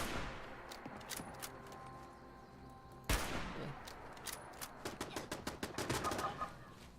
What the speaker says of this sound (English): There's enough turrets here doing the labor.